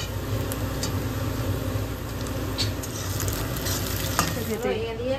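Steady, loud sizzling of tomatoes added to frying onions in a pan, with occasional stirring clicks and a brief scrape near the end, up close.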